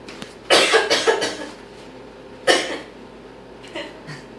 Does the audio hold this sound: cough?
yes